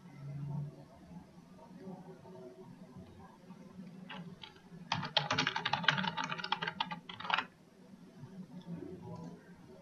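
Typing on a computer keyboard: a quick, close run of clicking keystrokes lasting a few seconds, with a voice talking quietly before and after.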